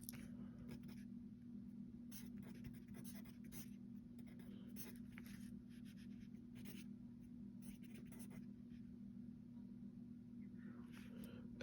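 Pen or marker writing out a calculus equation, a faint scratchy patter of strokes over a steady low hum, no talking.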